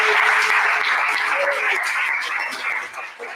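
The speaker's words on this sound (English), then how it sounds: "everyone in this room deserves a round of applause right now" Crowd applause, a dense steady clapping from many people that fades slightly toward the end.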